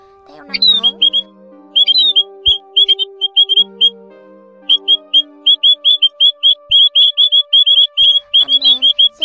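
Call of the Áo Già Đầu Bạc bird played as a trapping lure: loud, repeated sharp chirps and squawks in quick bursts, with a sustained whistling tone underneath and occasional longer warbling notes.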